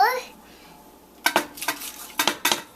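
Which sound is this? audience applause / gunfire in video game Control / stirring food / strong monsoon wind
stirring food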